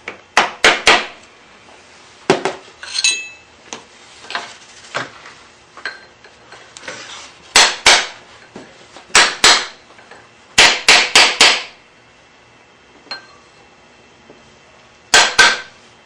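Sharp metal hammer strikes flattening a bent tab washer on the countershaft sprocket of a BMW F650GS motorcycle, landing in quick clusters of two to four blows with short pauses, close and loud in a quiet workshop.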